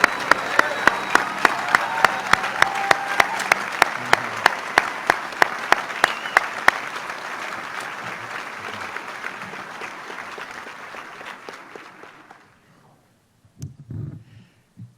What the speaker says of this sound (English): one more huge round of applause for our wonderful mentors and vet students